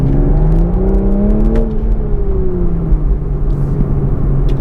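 A Toyota GR Supra 3.0 accelerates hard, its engine rising in pitch through a smooth, loud, close rev before easing into a steady lower hum.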